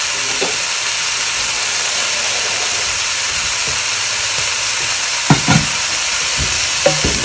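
Beef stir-frying in a hot pan on high heat for a broccoli dish, a steady loud sizzle and hiss throughout with a few brief clatters of stirring near the end.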